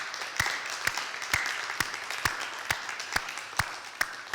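A small group at a school staff meeting claps; soft, sparse applause with distinct individual claps landing at a steady rhythm, fairly faint and without talk.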